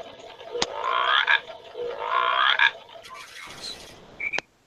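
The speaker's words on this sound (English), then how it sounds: "Do you hear the frog?" A loud, continuous rattling croak with pulsing bursts, joined by a few sharp clicks and brief higher chirps before it cuts off.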